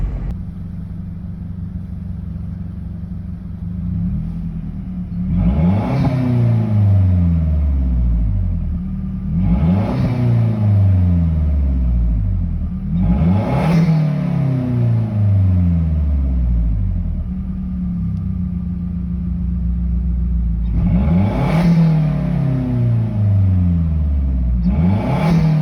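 A Mazdaspeed 3 engine revving through an exhaust cutout, with five loud, deep revs at regular intervals, each climbing sharply and then sliding back down over a steady rumbling idle.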